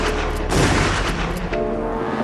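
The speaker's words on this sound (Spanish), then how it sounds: "Felts disparó contra la camioneta matando a Ty Layton e hiriendo de gravedad a Kovalevsky" Gunshots fired at a parked pickup truck near a low-water bridge, a short, loud burst of rapid cracks and booms over a dense rumbling background.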